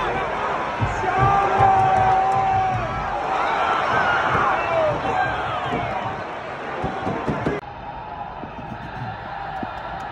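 A large stadium crowd at a Charlotte FC soccer match roars and murmurs steadily, loudest early on and easing slightly toward the end, with scattered shouts and nearby voices mixed in.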